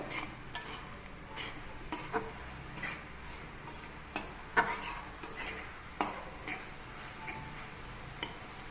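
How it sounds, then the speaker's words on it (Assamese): A spoon stirs khutariya fish curry with potatoes in a pan over a gas flame, scraping and clinking in irregular taps against a soft sizzle, close up with no talking. "এতিয়া মই এইখিনি লৰাই দিম"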